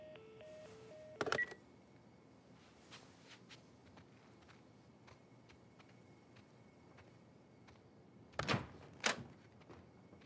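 In The Last of Us video game, a short run of phone keypad tones beeps near the start, followed by quiet footsteps and a couple of louder door-like thumps later on.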